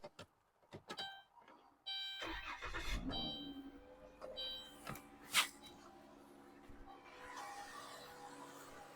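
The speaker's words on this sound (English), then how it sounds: "The unit has jump started the vehicle on its own." A car being jump started with a DBPower jump starter: clicks and thunks, then the engine cranks and catches into a rough idle that continues with faint rattles, heard at moderate distance.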